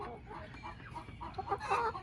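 Backyard hens and a rooster cluck softly around a feeder coop, a scatter of short clucks and murmurs at low level that grow a little busier toward the end.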